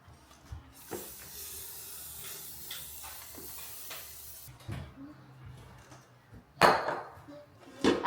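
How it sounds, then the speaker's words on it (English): Cooking spray hisses from a can into an air fryer basket in a home kitchen, one steady spray of about three and a half seconds, close up, followed by clinks and handling noises. "I put in my cooking spray."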